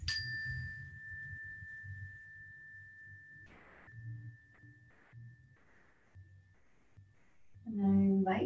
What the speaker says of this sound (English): focusing on this bell. Listen as it begins and as it dissipates.